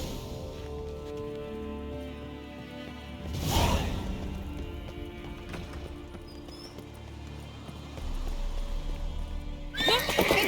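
Horse in a video game neighing loudly, then hooves clip-clopping into a gallop with whooshing sweeps, a sharp burst at the end, game music underneath.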